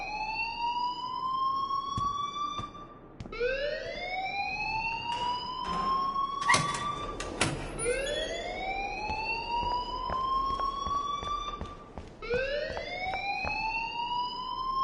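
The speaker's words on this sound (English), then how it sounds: "please turn off that alarm since that's your job." A school fire alarm inside the Life is Strange video game wails in repeated rising siren sweeps, loud and continuous, cycling about every four to five seconds with no voices over it.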